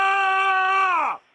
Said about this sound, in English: Randy and Brendon are screaming a lot out in the other room right now